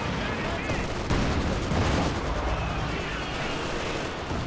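Mortar blasts and rattling machine-gun bursts in a video game tank battle, dense overlapping gunfire throughout with a commentator talking over it.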